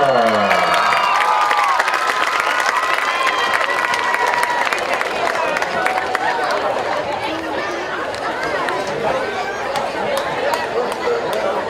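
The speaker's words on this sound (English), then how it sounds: "Let's have a big old round of applause for our homecoming royalty" A high school homecoming crowd cheers, claps and chatters loudly and continuously as the king and queen are crowned, with shouts rising over sustained applause.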